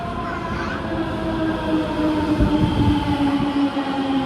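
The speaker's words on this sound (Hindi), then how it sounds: "और मेट्रो भी आ चुकी है" A metro train rumbles and hums loudly as it pulls into the station, with a steady drone and rising mechanical tones.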